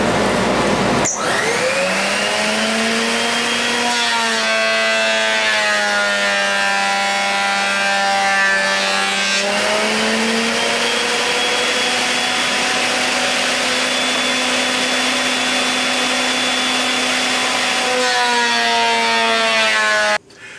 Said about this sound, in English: Now I'm going to be planing them all to thickness.